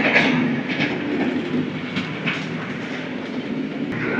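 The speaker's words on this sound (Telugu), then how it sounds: "ట్రైన్ కూడా వెళ్తుంది." Train passing near the railway station at Pendurthi, a loud close rumble with rhythmic clickety-clack of wheels over rail joints running steadily throughout, heard from nearby in rainy weather.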